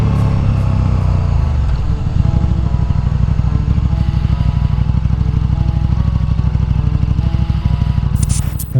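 A motorcycle at high speed in a brutal speed wobble, with loud engine and wind roar overlaid by a rapid rhythmic pulsing shudder that begins about two seconds in and continues to the end.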